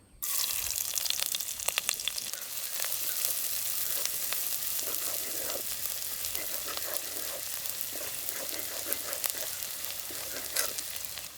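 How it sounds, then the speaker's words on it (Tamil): Chopped small onions fry in a little sesame oil in a clay pot, a continuous loud close sizzle with crackling spatters and light stirring throughout, no voices. "கொஞ்சமாக நல்லெண்ணெய் கட் பண்ண சின்ன வெங்காயம்"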